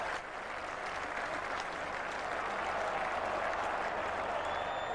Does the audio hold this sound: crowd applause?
yes